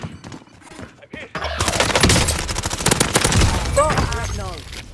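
Gunfire from enemy soldiers in a horror video game erupts into rapid, loud bursts of overlapping shots after a quieter opening of scattered clicks and noises, continuing densely to the end.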